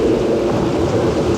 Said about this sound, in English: That's how we create our stormy scenes.